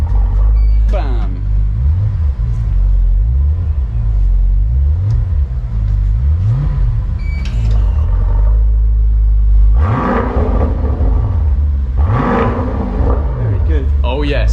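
A 2023 Range Rover Sport P530 4.4-litre V8 with a Quicksilver aftermarket exhaust revs repeatedly in rising and falling bursts, loud and close, with a heavy low rumble throughout and a few sharper blips near the end.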